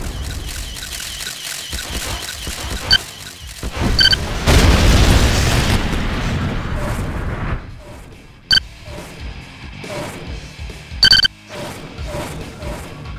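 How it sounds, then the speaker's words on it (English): Nuclear missile strike in the real-time strategy game OpenRA (Romanov's Vengeance mod): a sudden deep boom swells into a long, loud rumbling blast lasting a couple of seconds, then fades under scattered game sound effects and short bursts. "Warning, nuclear missile target. Launched."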